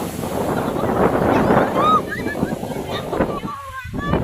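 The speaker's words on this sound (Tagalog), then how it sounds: "Hindi kami makaligo kasi ang lakas ng alon" Strong ocean waves at a beach roar and wash in a broad, continuous rush, with wind buffeting the microphone and people speaking faintly in the background.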